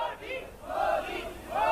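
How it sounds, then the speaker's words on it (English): A crowd in Delhi chanting Modi's name during the Indian Prime Minister's visit, rhythmic repeated two-syllable shouts rising and falling, moderately near and loud. "we have the chants of Modi, Modi"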